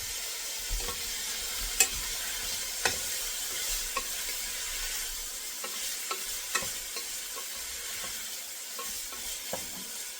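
Onion stirred and scraped around a metal pot with a non-metal utensil makes soft, steady frying sizzle punctuated by irregular light scraping knocks, fairly quiet and close, with no talking.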